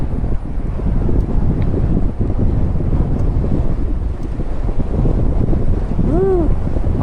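Headwind buffets a cyclist's microphone in a loud, unbroken roar as he rides near a highway underpass, with a brief whistling tone near the end.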